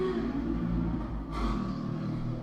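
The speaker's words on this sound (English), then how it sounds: "you can hear the cars going past" Steady low traffic rumble of cars going by nearby, with a brief swell as one passes closer midway; no voices.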